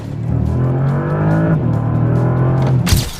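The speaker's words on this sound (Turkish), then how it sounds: "Şöyle bir kökleyeyim." A Ferrari 12Cilindri V12 engine revs loudly and holds a high, steady roar, dipping once before climbing again, ending with a sharp burst.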